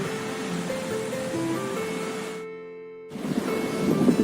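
Ocean surf washing onto a beach at sunset, a steady broadband wash of waves that drops out briefly midway and then returns louder and closer.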